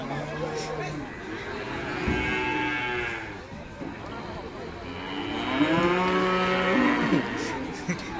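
A strong, unruly cow for sale lets out loud, drawn-out moos, two big lowing calls close by, with people chattering in the background.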